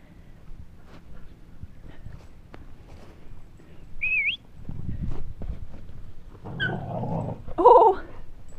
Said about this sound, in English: it's feeding time, so the dogs are a little frisky.